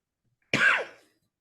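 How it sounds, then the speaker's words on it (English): A single short, sharp cough during a panel discussion, close and distinct, surrounded by silence. "That was just a cough."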